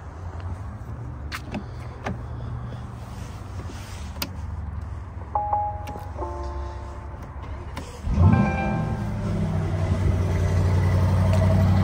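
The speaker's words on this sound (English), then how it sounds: "let me give you a little startup sound" A 2023 Porsche Cayenne Turbo GT starting up: quiet background with a few clicks gives way to a sudden engine catch and rising rumble, which settles into a steady low idle.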